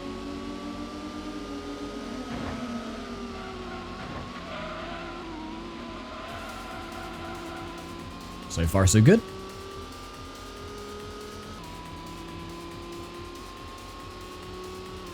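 Race cars in Gran Turismo's GT Mode Tuned Car Cup, with steady engine drone and shifting tones running throughout under a voice talking, and a brief loud burst near the middle.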